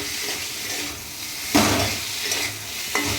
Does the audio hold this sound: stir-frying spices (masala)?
yes